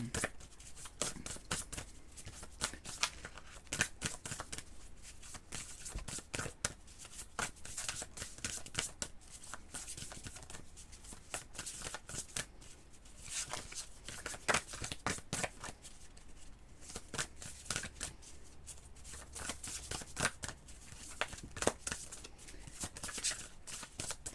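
Oracle cards are shuffled by hand in a long, continuous run of soft, rapid slaps and riffles, close and steady with no talking.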